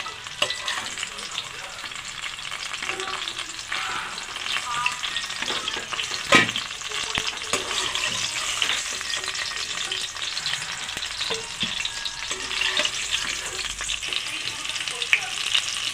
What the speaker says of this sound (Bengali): পুরো আলুটাই লাল লাল করে ভেজে নিলাম।